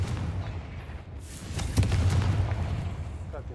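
A Confringo spell blast in Hogwarts Legacy gives a deep boom with a rumbling, crackling tail near the middle, set against an ongoing low battle rumble.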